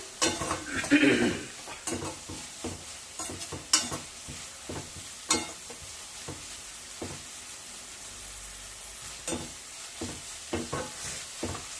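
Dried prawns and cucumber curry frying in a pan, with a spoon stirring and scraping in irregular bursts over a steady close sizzle.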